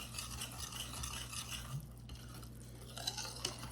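Wet and dry blueberry muffin batter ingredients being mixed in a bowl make soft, close scraping and swishing strokes, with a couple of light clinks near the end and no voices.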